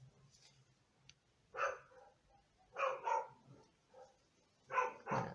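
A dog barks indoors in a few separate pairs and single barks with quiet gaps between, moderately close and fairly soft overall.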